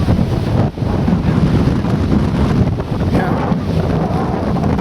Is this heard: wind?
yes